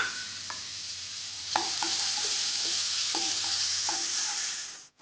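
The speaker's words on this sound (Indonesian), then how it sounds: "Masukkan bawang bombay. Ini ditumis sampai layu." Onion stir-fries in a pan under a loud, steady sizzle, with a utensil tapping and scraping the pan several times at uneven intervals before the sound cuts off.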